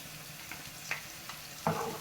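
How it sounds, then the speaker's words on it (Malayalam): Tomato puree made from two small ground tomatoes sautéing in hot oil for a brown cowpea methi masala, a soft steady sizzle broken by a few sharp spoon scrapes against the pan. "ഇത് നമുക്ക് നല്ലതുപോലെ എണ്ണയ്ക്കകത്തിട്ട് വഴറ്റിയെടുക്കണം"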